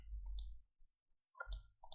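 A computer mouse clicks while selecting the gender field on an online ITI registration form, giving a few quiet, close clicks in two short clusters with a pause between them.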